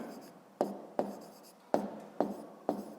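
A pen taps and scratches on paper in five short, separate bursts while a maths answer is written down, close and fairly quiet, with no talking.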